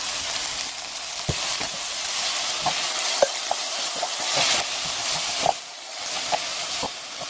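Scallions fry in an electric pan with a steady, close sizzle and hiss, broken by occasional light clicks and stirring scrapes, with no talking.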